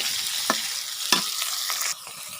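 Food stir-frying in a pan sizzles steadily and up close, with a few sharp spatula scrapes against the metal and no talk.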